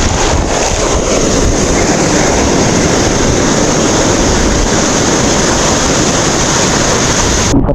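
Ocean waves crash against shoreline rocks at a shore-casting spot in the Philippines, a loud continuous wash of surf with heavy wind buffeting the microphone throughout.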